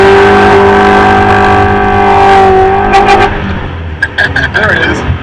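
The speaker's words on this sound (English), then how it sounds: "We hope you enjoyed our burnouts." A 1987 Buick Grand National does a burnout held on the handbrake, its engine roaring loudly with a sustained, wavering drone that drops off midway, followed by scattered squeals and bumps while people talk.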